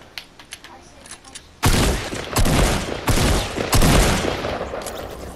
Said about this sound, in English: Dang, I can't believe this pistol actually did 46 damage twice to his head